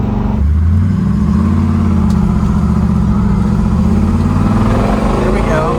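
A 1969 Chevrolet Camaro Z/28 with its original 302 small-block V8 idles loud and close, a deep steady rumble with a slight rise in revs, while someone talks over it.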